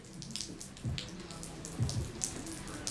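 Rain falling outdoors during a cadet corps parade, a continuous soft patter with scattered heavier drops and splashes, steady and moderately close, with faint murmuring in the background.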